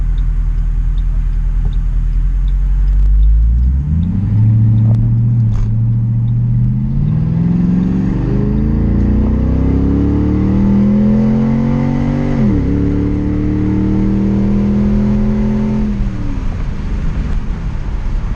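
A 1950 Studebaker truck on a custom chassis pulls hard in a race, its loud, close engine rising in pitch through two gear changes.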